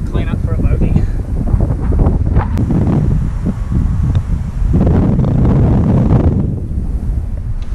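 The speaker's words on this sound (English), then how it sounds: "It's getting windy." Wind gusts buffet the microphone on a golf course, a loud, uneven rushing roar that surges and eases across the stretch.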